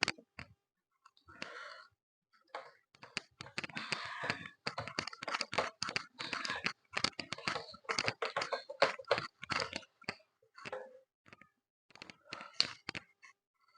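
Fingers type on a computer keyboard writing out Python keywords, a long run of quiet, close, irregular key clicks in bursts with short pauses, no talking.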